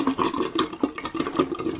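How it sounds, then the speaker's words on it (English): Water gurgling and draining out of an emptied bathroom sink, a steady close bubbling rush with irregular glugs and no voices. "let's empty good old Sigma the Sea Monster sink"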